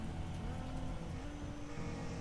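Steady, dense engine drone from racing cars in the video game RoRacing, loud and continuous throughout with no voices.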